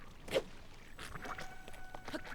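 Squelching footsteps in rain in Zelda: Tears of the Kingdom, several soft wet steps at an uneven pace, quiet over a light hiss.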